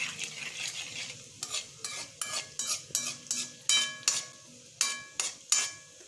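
Spices such as bay leaf, cloves, cinnamon, cumin and cardamom powder being stirred in a pan for lauki and aloo sabji, with a spoon scraping and clinking against the metal in a quick, uneven rhythm of close, distinct strokes.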